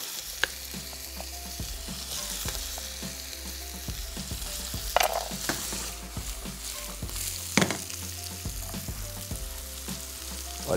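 Tinda, small bottle gourd and carrot frying in hot oil, with a steady low sizzle and occasional louder stirring clatters, no voices.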